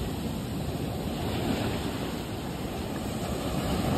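Ocean surf at Perupalem beach rolls in as a steady, broad wash of waves with some wind rumble, loud and continuous with no voices.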